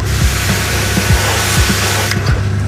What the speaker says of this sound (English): At the car wash.